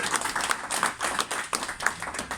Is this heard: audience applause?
yes